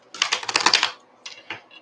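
Cards are shuffled in a quick, crisp riffling burst, followed by a couple of shorter flicks, close and clear with no talking.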